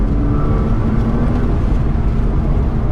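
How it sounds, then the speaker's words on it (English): A 2005 Porsche 987 Boxster S with Tiptronic S automatic kicks down under full throttle, a steady, dense engine drone heard from the cabin, loud and continuous with no voices. "Now let's do a full throttle in drive mode and see how it kicks down."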